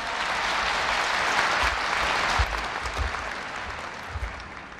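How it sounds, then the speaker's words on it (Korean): A large audience at a Korea University freshman entrance ceremony applauds to welcome speaker Kim Tae-won, a dense, steady roar of clapping that fills the hall for several seconds before easing off slightly. "김태원 상무님을 큰 박수로 맞아주시기 바랍니다"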